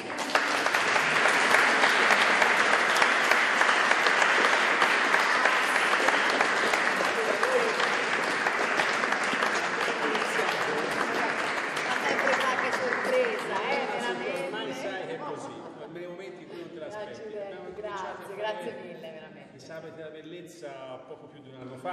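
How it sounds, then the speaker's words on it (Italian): An audience of about sixty people applauds before a Saturday-evening concert of Bach music, loud and full at first, then thinning and fading as a voice begins speaking. "Io inizierei così, con un applauso per la Debora, no, per la nostra amica."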